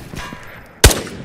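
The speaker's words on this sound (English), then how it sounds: "Somebody shooting in. Careful." A single loud, sharp gunshot from another player in a video game, cracking out suddenly after a quiet stretch and fading quickly.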